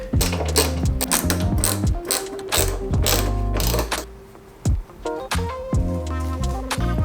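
A ratchet turns out four 7 mm headlight bolts on a 2018-2022 Chevy Colorado ZR2, its pawl clicking in quick, close bursts with short pauses between strokes.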